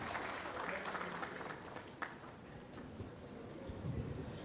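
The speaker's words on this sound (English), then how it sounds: "Please, a warm round of applause for Florence Shimela." Applause from guests at the 2025 Old Starehian Society gala dinner, held at Ole Sereni, rising as a speaker is welcomed. The clapping is fairly quiet and roomy, with some murmuring and clatter mixed in.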